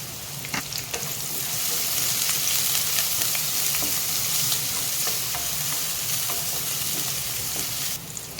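Crushed garlic cloves and curry leaves fry in hot oil for an ivy gourd fry, giving a loud, continuous close sizzle that swells after they go in and keeps crackling for several seconds before cutting off near the end.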